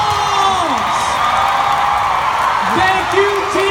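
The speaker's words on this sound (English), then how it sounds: "would all the teachers please stand up, and give the teachers a giant round of applause" A large crowd at a WE Day event cheers, whoops and applauds for teachers, a loud continuous roar with rising shouts, while an amplified voice talks over it.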